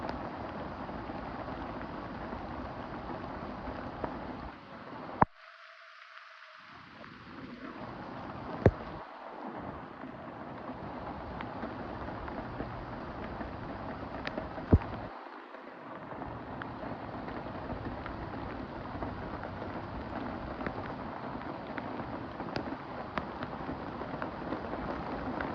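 Heavy rain pours onto house gutters in a steady, broad roar with occasional sharp drips and splashes, plus a few brief sudden drops and recoveries in the wash of sound.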